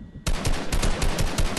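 Rapid automatic gunfire in Fortnite, a dense unbroken burst of shots that kicks in suddenly after a brief quiet moment and keeps going loud and close.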